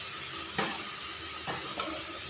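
Chili, kaffir lime leaves and krachai stir-fried in a pan for a spicy Thai frog dish: a steady soft sizzle with a few brief scraping stirs, quiet and close, no talking.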